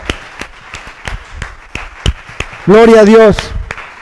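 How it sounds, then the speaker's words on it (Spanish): A church congregation claps in a steady rhythm, sharp beats roughly evenly spaced, while a voice calls out loudly in praise partway through. "Si usted lo cree, denle un aplauso al Señor."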